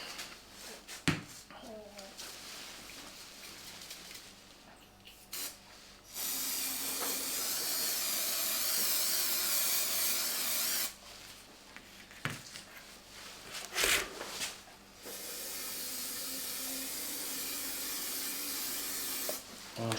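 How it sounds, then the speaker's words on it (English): 3M77 spray glue contact adhesive hisses from an aerosol can in long, loud bursts of several seconds each, separated by short pauses and small handling noises. "For this, we're just going to use a spray glue."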